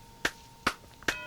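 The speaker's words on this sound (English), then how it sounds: "Here's like a percussion track." Three evenly spaced sharp percussive hits, like a clap or snare, from a percussion backing loop played on Looptimus, close and dry with quiet gaps between each strike.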